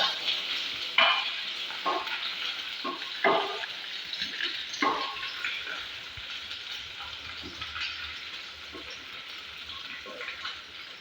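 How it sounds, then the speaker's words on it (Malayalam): Cashews and raisins frying in a little oil in a pan, a soft steady sizzle broken by several sharp crackles and pops early on, then fading to a quieter bubbling hiss with occasional stirring. "അണ്ടിപ്പരിപ്പും മുന്തിരിയും ചെറുതായിട്ടുള്ള എണ്ണയിലേക്ക് പൊരിച്ചെടുക്കുക"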